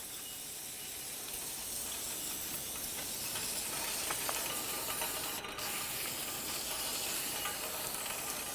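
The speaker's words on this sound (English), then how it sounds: "Now we'll clean everything with some parts cleaner." Parts cleaner sprays onto the rear brake assembly of a 2004-2006 Scion xB, a quiet, steady aerosol hiss lasting several seconds with no talking.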